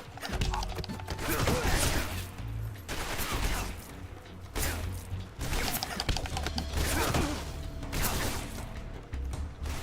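Repeated bursts of enemy gunfire in the stealth video game Metal Gear Solid 3: Snake Eater, sharp rattling volleys and clanks recurring every second or two at fairly close range, with no talking over them.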